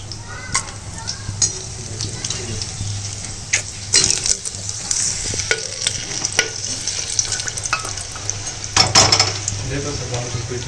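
Onions and whole spices fry in hot oil, a close bubbling sizzle broken by repeated scraping and clinks of a spoon stirring against the pan, with faint voices in the background.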